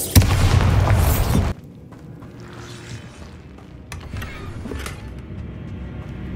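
Bombarda spell blast in the Hogwarts Legacy video game, a loud burst of explosive noise that cuts off abruptly, followed by quieter rumbling and crumbling debris sounds.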